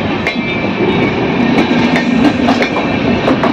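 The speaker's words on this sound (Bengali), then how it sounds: "সেই জায়গায় দেখা মিললো আমাদের আসাম গুয়াহাটি, যে ট্রেনটি কিনা আসছে" A long-distance Assam-bound train to Guwahati arrives at SMVT Bengaluru station, its wheels rolling with loud, steady clickety-clack and intermittent sharp rail clicks, heard close by.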